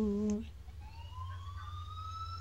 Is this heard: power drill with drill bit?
no